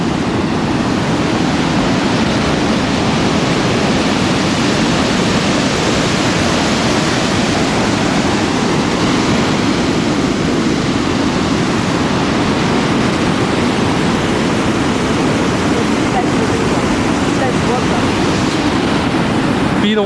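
A river flows in a loud, dense, unbroken rush of water, steady and close throughout with no pauses.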